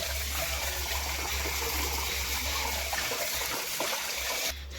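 Radish greens are washed under running water in a steady, close rush of water with light splashing and handling, which drops away abruptly at the end.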